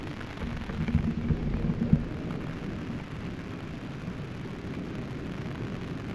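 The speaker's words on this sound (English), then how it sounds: "How often do you get to watch a thunderstorm with lightning and hail and a rainbow all at the same time?" Thunderstorm with rain and hail, a steady broadband wash of heavy rain with a low rumble of thunder swelling early on, then settling into continuous downpour without talk.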